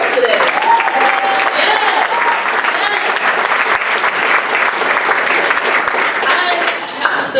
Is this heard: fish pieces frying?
no